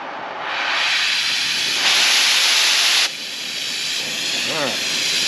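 A gas burner on a cooking setup hisses loudly and steadily, the rushing noise swelling for about a second in the middle, then settling back to a continuous hiss.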